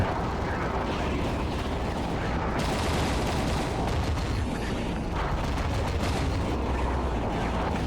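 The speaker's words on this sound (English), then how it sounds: "Gatling." A Gatling gun fires underwater in AquaNox, a dense continuous roar of rapid bursts that runs unbroken and loud throughout the whole stretch.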